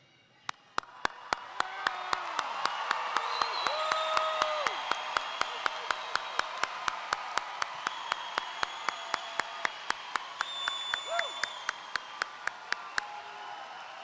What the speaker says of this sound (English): please stand up and cheer so loud that they'll hear you in all of GISD.